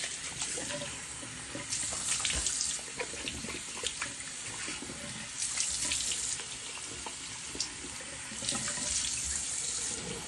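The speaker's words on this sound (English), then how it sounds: "we're going to make a little bit of noise here with a quick rinse of my face." A bathroom sink tap runs steadily while a face is rinsed, with repeated bursts of splashing and gurgling water over about ten seconds and no voices.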